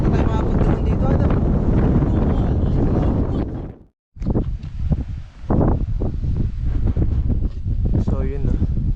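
Strong wind buffets the microphone on a mountain summit at sunrise, a loud continuous roar with gusts that drop away briefly before surging back, with faint voices underneath.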